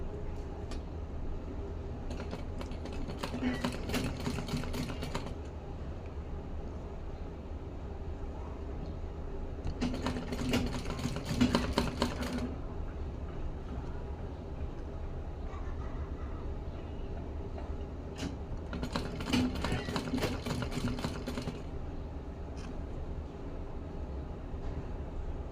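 A sewing machine stitching the sleeve of a dress for a three-month-old baby, running in three short bursts of rapid mechanical whirring separated by quieter pauses with a steady low hum underneath.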